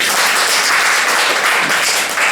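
Loud, close crowd applause fills a short burst at a business seminar, a dense continuous clapping texture with no voices over it.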